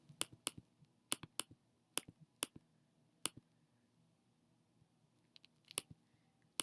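Sharp, dry computer mouse clicks come in quick irregular bursts, close and distinct against a quiet low hum, with pauses between clusters of two or three clicks.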